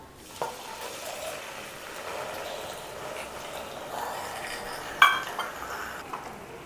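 Caramelized sugar with a quarter cup of water is stirred in a pan, giving a soft, low bubbling sizzle with faint scraping and one sharp clink of the utensil against the pan.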